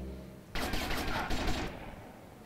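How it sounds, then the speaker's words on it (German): Gunfire in GTA Vice City aimed at cars: after a low rumble, a dense burst of rapid shots starts abruptly and runs loud for about a second, then tails off into fainter crackle. "Gemein auf die Autos schießen."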